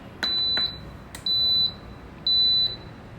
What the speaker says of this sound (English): So you can hear the beep